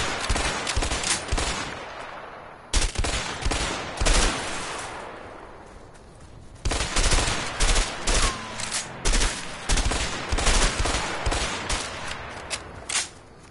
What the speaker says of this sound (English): Let's shoot at them.